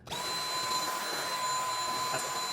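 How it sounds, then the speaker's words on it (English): A vacuum cleaner sucks lint out of an opened-up Frigidaire dryer during a repair, giving a steady, loud, continuous whine with a high tonal hum throughout, no talking. "go ahead and vacuum some of that lint out"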